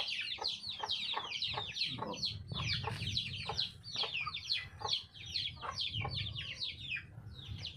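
Brahma chickens, about two months old, cluck and chatter in a flock, many quick overlapping calls in a busy rhythm, moderately close, over a low background rumble.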